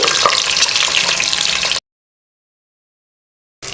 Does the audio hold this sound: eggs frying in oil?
yes